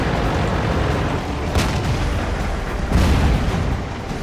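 An M103 heavy tank's cannon in World of Tanks booms through a dense rumble of battle, with a sharp blast early on and another heavy report near the end, both loud and close.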